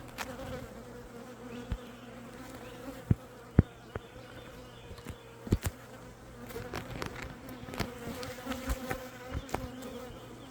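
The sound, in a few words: honeybees buzzing and flying around a hive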